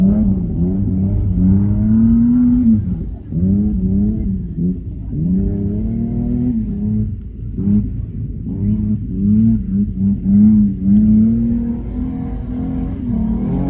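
A rally car geared for a speedway track revs hard during a khanacross run, its engine droning steadily and loud with repeated rises and dips in pitch as it sits between first and second gear.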